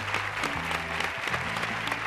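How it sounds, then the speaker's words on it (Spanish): Studio audience applause on a Spanish television game show, a dense continuous clapping that stays steady and moderately loud throughout the short stretch. "un fuerte aplauso para el juego de Porcelanosa"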